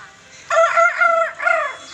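A rooster crows once nearby, a loud drawn-out call rising and breaking into a final stretched note.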